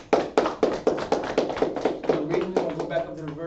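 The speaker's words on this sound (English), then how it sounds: "All right, clap it up." A church congregation at a Feast of Unleavened Bread closing service claps in a steady, loud rhythm of about a dozen sharp beats, with voices mingling underneath.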